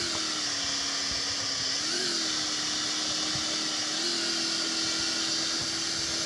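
A motorbike engine drones steadily while riding through a battle royale game, a constant whiny hum with slight pitch rises near two and four seconds as the throttle shifts.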